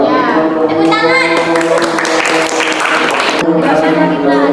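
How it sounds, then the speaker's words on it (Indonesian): A classroom of high school students breaks into applause, a dense, close, continuous clapping with children's voices mixed in underneath. "ya tepuk tangan"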